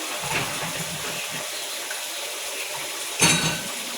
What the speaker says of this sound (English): So I'm just rinsing them. They already were sitting in soapy water.